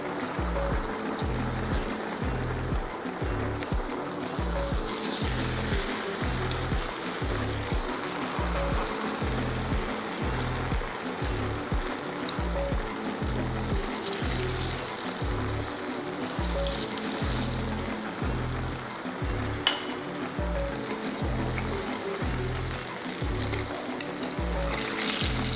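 Cassava sticks fry in moderately hot oil, batches of about ten at a time, giving a steady, even sizzle and crackle throughout with no talking.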